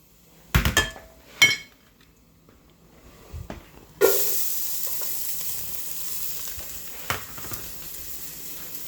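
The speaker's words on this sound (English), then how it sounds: "when the oil is hot, you add your shallots." A few sharp clatters and knocks, then hot oil bursts into a loud, steady sizzle as shallots hit the pan and keep frying for risotto.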